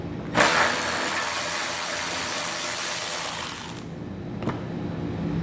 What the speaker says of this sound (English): Grab our 10mm socket and get it removed.